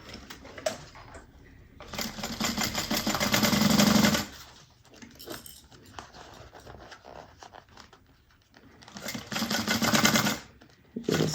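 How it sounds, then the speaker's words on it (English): A sewing machine stitches up the sides of a fabric clutch bag with a quarter-inch seam allowance. It whirs loudly in two bursts of a few seconds each, with softer handling clicks in between. "So sewing up the sides. Quarter-inch seam allowance."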